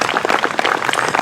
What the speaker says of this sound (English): Let's give Cliff a nice round of applause.